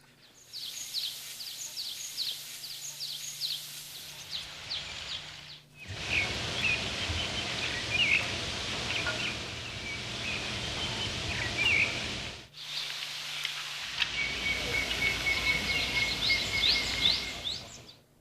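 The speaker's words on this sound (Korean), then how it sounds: "그럼 말씀하신 여기서의 ASMR은 새소리네요." Birds sing outdoors around the footbridge at the inter-Korean summit meeting, with scattered high chirps over a steady soft hiss of ambience, broken into a few separate stretches.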